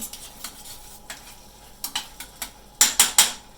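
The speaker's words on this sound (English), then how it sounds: "I'm going to mix it all together" A spoon stirs a roasted garlic mixture in a pot, giving sharp scraping clicks against the sides at an irregular pace, ending in three loud, rapid scrapes close by over a faint sizzle.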